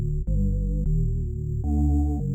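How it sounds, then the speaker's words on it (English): A thick, buzzing organ-like reese bass synth built from two sine waves with added harmonics holds sustained low notes, shifting pitch a few times, loud and alone with a slightly detuned, wavering tone. "let's add another layer for the bass, which is a bit more like an organ, kind of reese bass"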